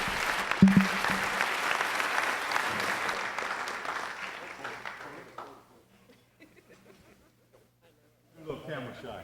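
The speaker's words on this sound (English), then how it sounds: "So give him a round of applause." Audience applause for an honored police officer at a Fresno City Police honor ceremony in 2017, a dense sustained round of clapping from a crowd that fades out, with murmuring and a few voices afterward.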